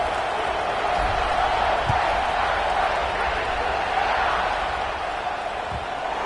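A football video game's stadium crowd roars in a steady, loud wash of cheering that holds level across the whole stretch, with a commentator's voice running over it.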